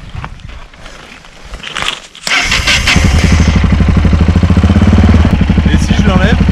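After some shuffling, a motorcycle engine fires up and settles into a loud, steady, close idle putter.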